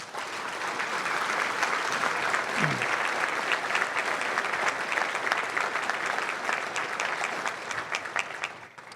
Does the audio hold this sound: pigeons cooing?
no